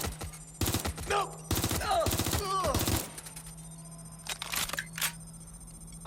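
Rapid bursts of gunfire in the video game Watch Dogs: Legion, several sharp clusters of shots at close range with a low hum underneath and a voice talking between them.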